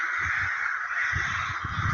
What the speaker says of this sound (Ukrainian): ворони.